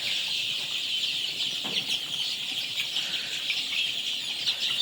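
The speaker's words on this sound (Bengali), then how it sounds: "দেখেন মুরগিগুলা একদম একটা আরেকটার উপর দিয়ে গিয়ে পানি খাইতেছে" A crowded flock of chickens clucks and chatters continuously while drinking water, climbing over each other, a dense, busy racket close by with no talking.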